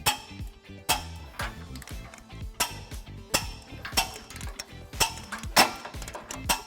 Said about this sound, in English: We're going to go ahead and tighten and torque all of our bolts according to the manufacturer specifications.